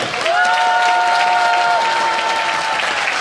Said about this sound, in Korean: 그럼 큰 박수와 함성 한번 찔러보도록 하겠습니다